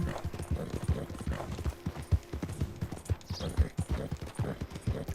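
Steady clip-clop of a horse's hooves at a trotting rhythm while riding in Red Dead Redemption 2, close and fairly loud, with a faint whinny-like sound partway through.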